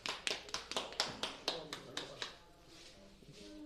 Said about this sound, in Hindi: जोरदार ताली दीजिए आप लोग।